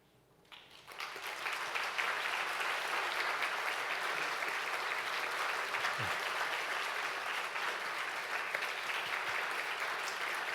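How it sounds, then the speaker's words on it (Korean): Applause at a Korean university president's retirement and inauguration ceremony swells within the first second or two into a dense, sustained ovation from a large audience that holds steady for the remaining seconds. "뜨거운 박수 부탁드립니다"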